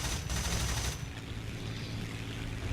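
Rapid machine gun fire from an I-16 Type 27 fighter plane in the War Thunder combat game, a dense, loud burst for about a second, then a steady engine drone with fainter rattling.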